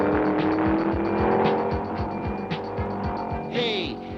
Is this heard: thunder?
no